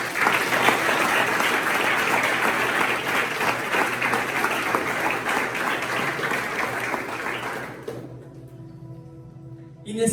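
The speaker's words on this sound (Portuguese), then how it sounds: "Pode aplaudir." A church congregation at a youth revival service claps loudly and continuously for about eight seconds, a dense wash of hands that then drops away as a softer sustained tone lingers.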